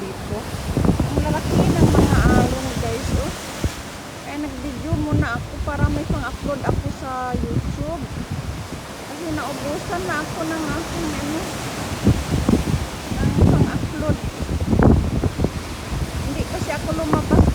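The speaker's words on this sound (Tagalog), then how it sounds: "Maalon kasi ngayon, maalon." Rough Atlantic waves surge at a Bermuda beach under a strong, gusting wind, a broad steady roar with louder swells. A voice speaks over the surf throughout.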